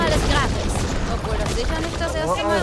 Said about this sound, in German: ich habe auf das Vieh geschossen